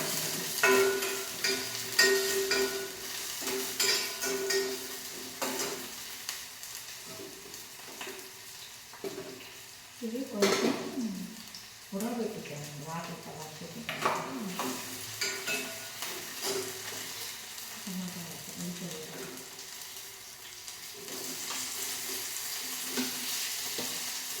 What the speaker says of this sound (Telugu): ఉల్లిపాయలు నేను కలిపిస్తాను కదా